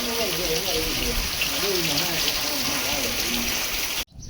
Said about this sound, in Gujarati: એકદમ મસ્ત વરસાદ આવી ગયો